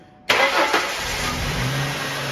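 A Ford car engine, after a belt squeal fix, turns over and settles into a steady running hum, close and fairly loud, with a high whine above it.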